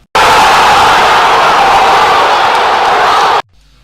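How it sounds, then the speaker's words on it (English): Roaring crowd at a football match involving Wydad, a loud, dense wall of stadium noise that starts and stops abruptly after a few seconds. "As you can hear, the crowd noise is pretty insane."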